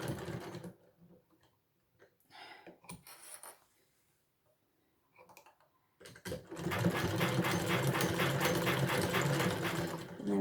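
A sewing machine stitches a handbag, first in short stop-start bursts with pauses and handling noises, then running steadily and loudly for the last few seconds.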